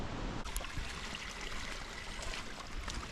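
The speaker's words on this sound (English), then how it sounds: "We can hear the water flowing in the distance." Water flowing in the distance near the Bassin Bleu waterfall on an island, a faint, steady rushing hiss that continues without a break.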